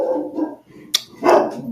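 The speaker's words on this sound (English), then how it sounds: "dog is barking." A dog barks indoors in a home, a couple of sharp, fairly close barks separated by a short gap, with a faint higher yelp between them and no talk.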